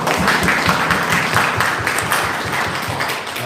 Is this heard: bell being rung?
no